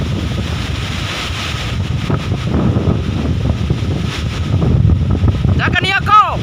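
Strong wind roars across the coast at Ende, blowing hard enough to push a person back, with big waves on the sea behind; the gusting rumble is loud and continuous throughout, and a voice briefly breaks in near the end.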